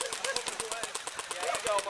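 Airsoft guns fire during a maze game, a rapid run of sharp snapping shots in steady bursts at fairly close range, with voices faintly underneath.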